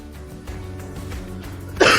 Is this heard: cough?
yes